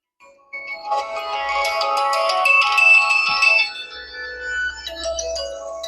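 A ringtone melody plays from the loudspeaker of a Vivo Y28 smartphone, bright and layered, running steadily for about five seconds at close range with no voices.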